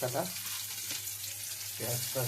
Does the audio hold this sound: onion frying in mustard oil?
yes